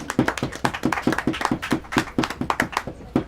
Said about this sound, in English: can you just give him a round of applause